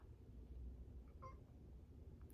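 A pet cat gives a faint, short meow around the middle of a quiet indoor stretch, followed by a sharp brief noise at the very end.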